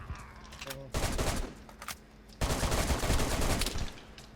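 Bursts of rapid gunfire in the video game DayZ crackle loudly in two long volleys, with a brief pause between them and faint background noise.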